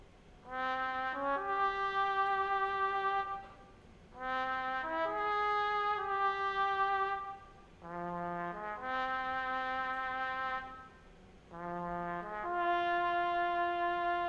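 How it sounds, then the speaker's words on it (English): A synthesized spaghetti western trumpet sample plays sustained melodic phrases in four bursts with brief gaps between them, layered with a warm keys preset and vinyl texture in a Spanish-style FL Studio beat. "Now I have the spaghetti western trumpet."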